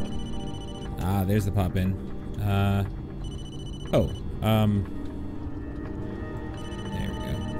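A phone rings inside the horror video game Blair Witch, with several short bursts of ringing spread across the clip while someone talks over it.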